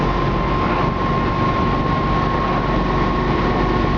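A 1968 Camaro SS convertible engine running with very low gears, giving a steady, continuous low rumble with a constant whine and no variation, heard alone without talk.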